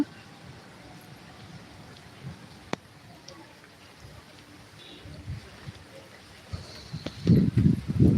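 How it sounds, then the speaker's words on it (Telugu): Rain falls during a thunderstorm downpour in a quiet residential area, a steady close hiss of drops with heavier pattering bursts near the end. "చూడండి వర్షం పడుతుంది"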